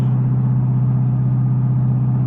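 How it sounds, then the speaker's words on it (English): Exhaust drone from a Roush supercharged 2015 Mustang GT while cruising: a loud, constant low-pitched hum filling the cabin, steady and unbroken with no voices. "the most annoying thing about driving this car is the exhaust in the drone"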